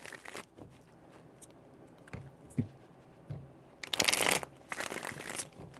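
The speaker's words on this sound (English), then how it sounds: "4 shuffles." Tarot cards are shuffled in short bursts of riffling and rustling, with a louder flurry toward the end, close up in a quiet room.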